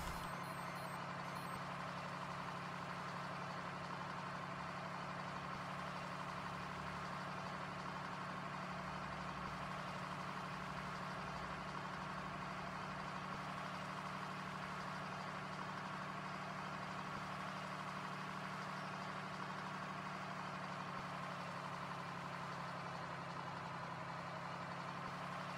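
A truck engine idles steadily in Farming Simulator 2013, a low, even drone with a constant hum and no notable changes across the whole stretch, quiet and alone.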